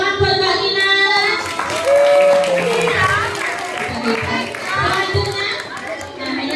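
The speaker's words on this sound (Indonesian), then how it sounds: "Tepuk tangan buat Mbak Kinan." A class of new first-grade children claps for a classmate, a loud burst of scattered applause mixed with kids' chatter and an adult voice talking over it.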